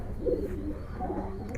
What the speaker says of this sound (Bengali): মাশাআল্লাহ, ছটফটে কবুতর।